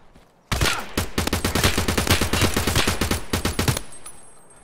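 Rapid automatic gunfire from a weapon in Escape From Tarkov, a dense burst of loud close shots lasting about three seconds before cutting off.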